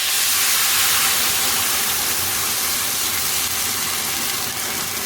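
Just over a litre of boiling water poured onto hot toasted seeds and spices in a pan for beef madras, producing a loud, sustained sizzling hiss of steam that fades slightly toward the end.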